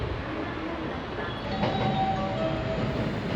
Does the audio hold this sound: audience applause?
no